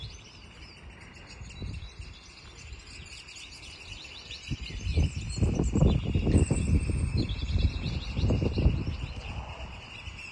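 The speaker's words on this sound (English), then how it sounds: "Listen to the birds," Birds chirp and call faintly in a high, steady chorus over an outdoor backdrop, with lower rumbling sounds swelling in the second half.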